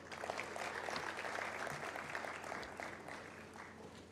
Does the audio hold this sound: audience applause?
yes